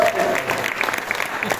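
An audience claps together in a brief, dense burst of applause at a gathering honoring a retired police general, with a voice speaking over the clapping.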